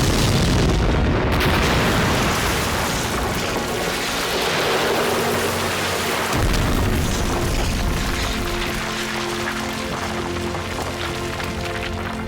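A replica V2 rocket detonates on a purpose-built wartime street set, a loud sustained explosive roar with a deep rumbling body that rolls on and slowly decays across the whole span, with no voices.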